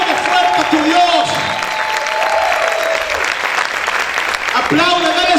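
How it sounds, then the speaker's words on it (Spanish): Loud, continuous clapping from a church congregation, with a voice calling out intermittently above the dense applause. "aplaude fuerte al Señor"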